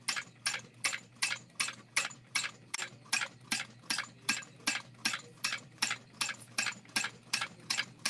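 A hand-cranked sewing machine stitches through thick handbag layers in a steady run of about two close, sharp mechanical clicks per second, each stroke a crisp ratcheting tick over a low motor-free hum, continuing evenly throughout.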